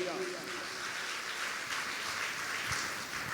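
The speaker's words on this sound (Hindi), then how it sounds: "ताली बजाकर ईश्वर को धन्यवाद दे।" A worship congregation claps in praise, soft steady applause heard faintly and at a distance, filling the room in a continuous patter.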